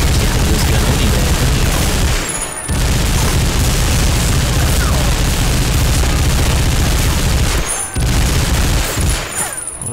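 Sustained heavy gunfire from a mounted gun in the video game Medal of Honor Frontline pounds almost continuously, loud and dense, broken only by two brief pauses.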